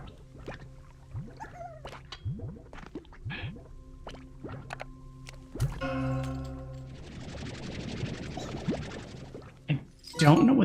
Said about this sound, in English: Don't know what these big old bells do.